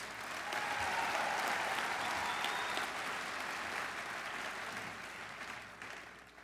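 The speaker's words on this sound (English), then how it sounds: "That deserves a round of applause." An audience at the Iowa FFA State Leadership Conference general session gives a sustained round of applause, dense and steady, then tapering off at the end with no speech over it.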